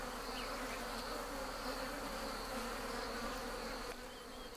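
Bees swarm around a wild honey nest during traditional honey hunting in Kenya, a dense, steady buzzing drone close by, unbroken and without any talking.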